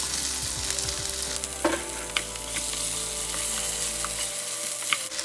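Chicken pieces fry in a hot pan with steady crackling sizzle and a few sharper pops and stirring clinks, close and continuous with no talking.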